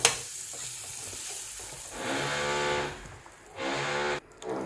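A small handful of cashews frying in ghee for mango kesari: bursts of bright sizzling rise and fall as they are stirred, with short quieter gaps between the surges.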